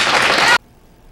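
A crowd applauds a Senate candidate's campaign speech. The burst is loud and dense, then cuts off abruptly after about half a second.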